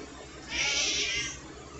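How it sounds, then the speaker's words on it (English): A house cat meows once in a kitchen while dinner is being made, a short, fairly clear, close call over quiet background hum. "You want to help, Kitty."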